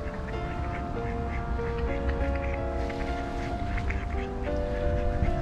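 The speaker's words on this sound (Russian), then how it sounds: "Кормят уточек." Several ducks quack busily close by while being fed in Old Peterhof, overlapping calls in short bursts, with a low outdoor rumble and faint activity underneath.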